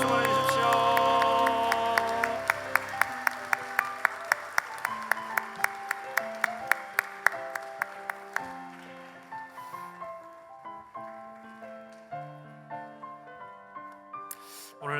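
Church congregation applause after a baptism service, rhythmic, evenly spaced clapping over music with sustained instrumental notes, and the claps thin out as the music carries on.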